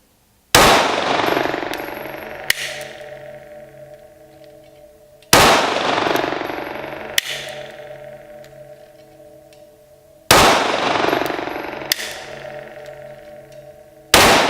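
Canik TP9DA pistol fired in double-action mode: four loud, sharp gunshots about five seconds apart, each with a ringing decay, plus faint mechanical clicks between shots.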